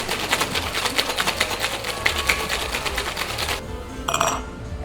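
Espresso martini shaken hard in a cocktail shaker, a fast rhythmic rattling of ice, loud and close for almost four seconds, then stopping into quieter room noise with a brief clatter.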